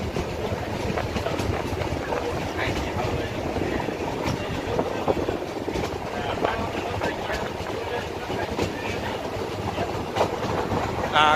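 Loud, continuous rolling clatter of a train passing through dense Gir forest between Junagadh and Sasan Gir, with wheels rattling steadily for the whole stretch.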